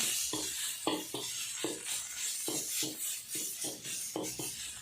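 Beef and curry paste dry-roast in a pan over low heat, with a soft steady sizzle and repeated rhythmic scraping strokes of a utensil stirring through the mixture.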